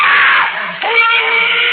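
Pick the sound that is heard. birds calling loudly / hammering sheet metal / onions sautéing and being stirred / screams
screams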